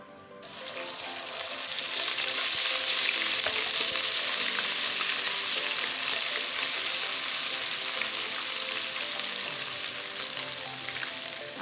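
Ginger garlic paste sizzles loudly in hot ghee for a chicken macaroni dish, a bright continuous frying crackle that swells in the first seconds and holds steady throughout, with no talking.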